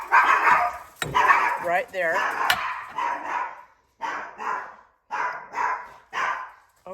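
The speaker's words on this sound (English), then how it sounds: "so excuse the dogs" Several dogs bark repeatedly indoors in a home kitchen, loud and near, in rhythmic bursts of woofs and yips, while someone speaks briefly over them.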